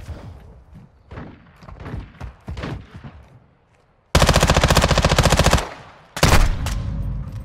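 MPX submachine gun in Modern Warfare 2 fires two loud, sustained rapid-fire bursts after a quieter stretch, the second burst briefly interrupted before continuing.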